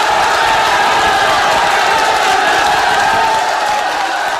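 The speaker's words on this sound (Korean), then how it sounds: "장례식장이 떠나갈 듯 함성이 울려 퍼집니다." Mourners gathered in a funeral hall to watch a football match roar with cheers at a goal, a loud, sustained crowd shout filling the room without a break.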